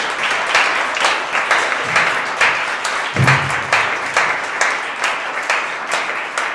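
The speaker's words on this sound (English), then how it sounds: "give everyone who participated in this program a big round of applause" A room of people gives a big round of applause for the young Black conservatives who took part in a reading program, with dense, steady clapping that holds throughout, loud and close.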